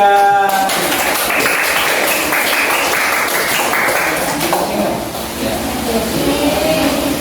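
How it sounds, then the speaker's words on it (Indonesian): A class claps for group 3 in a classroom, a steady wash of applause filling the whole stretch, with talk mixed in over it. "Tepuk tangan buat kelompok 3."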